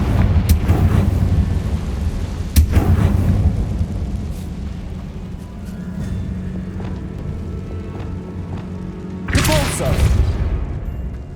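Deep, booming blasts from the Confringo fire spell in Hogwarts Legacy, heavy at the start. A sharp burst comes near the end. A voice shouts during the clip.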